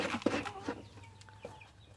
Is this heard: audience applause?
no